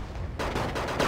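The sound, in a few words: tank cannons firing in the video game Wargame Airland Battle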